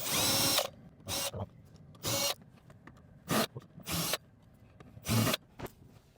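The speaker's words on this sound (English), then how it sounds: "So we're gonna use this power tool and remove these 4 bolts." A power drill whirs in six short bursts removing bolts on a Tesla Model 3, separated by quiet pauses, loud and close, with faint mechanical clicking between runs.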